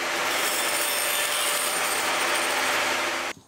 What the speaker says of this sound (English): I'm gonna trim it down a little on the bandsaw.